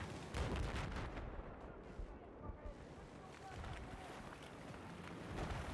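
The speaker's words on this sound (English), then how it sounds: "Good mortar usage from both sides" Mortar rounds fire and land in a Battlefield 4 multiplayer match: repeated deep thuds and rumbling blasts, some near and some distant, over constant battlefield noise, with voices talking underneath.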